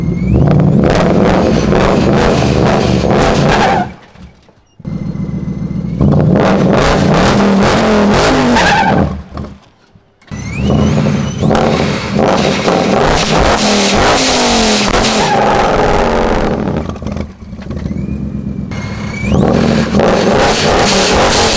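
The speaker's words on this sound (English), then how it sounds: "I'm gonna do a burnout." A supercharged manual Mustang at a drag strip roars through a burnout, loud revving bursts and tire-spinning howls broken by short pauses where the engine drops off, repeated three times.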